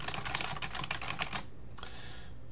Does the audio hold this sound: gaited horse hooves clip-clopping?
no